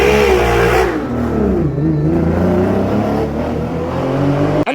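A Ferrari F50 worth millions, its starter faulty, with the engine suddenly revved hard: loud, sustained roar that rises and dips in pitch as the throttle is pressed, close and continuous, cutting off abruptly at the end.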